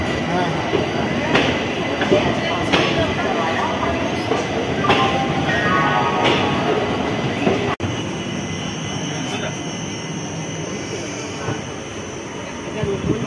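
Constant rumble and rattle from inside a moving passenger train, the 13009 Doon Express, in a B3 coach, with occasional wheel squeals and faint voices in the background.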